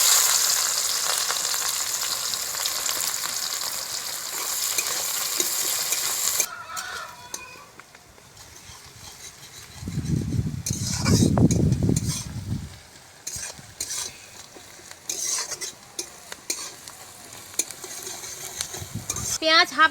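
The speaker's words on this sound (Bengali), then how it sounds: "কুচানো পেঁয়াজ দিয়ে দিলাম" Chopped onions hit hot mustard oil in a wok already holding bay leaf, cardamom, cloves and cinnamon for a village chicken curry. A steady close sizzle fills the first six seconds, then fades to quieter frying with stirring scrapes and a brief low rumble.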